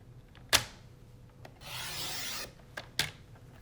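Cardstock being cut for a Stampin' Up! card: sharp close clicks of a trimmer with a short rasping slide of the blade in the middle, quiet and alone.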